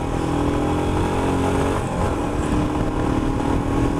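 A Royal Enfield Himalayan motorcycle engine thrums loudly and continuously while riding, a steady throbbing drone mixed with wind rush, with no talk over it.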